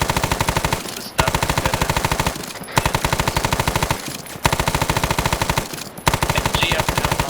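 Machine gun fire in a war video game, with repeated long bursts of rapid shots, each run broken by a brief pause, loud and close throughout.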